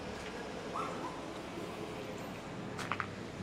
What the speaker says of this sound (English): Oh, there's a puppy.